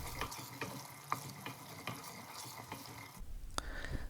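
Steady soft stirring and faint frying of herbal hair oil with curry leaf stems in a pan, a rhythmic series of light scrapes under a constant sizzle, with a sharp tap near the end.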